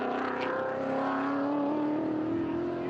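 Vintage race cars at Circuit of the Americas during an SVRA race, engines droning loud and steady with a rising pitch as they accelerate, continuous with no talk.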